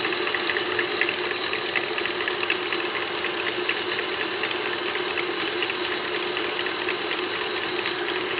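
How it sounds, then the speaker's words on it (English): An electric mixer whips egg whites for a chocolate meringue pie, giving a steady, close mechanical whir with a fast rattling texture that holds constant throughout. "I'm just going to take my mixer, and we're going to just let it start whipping."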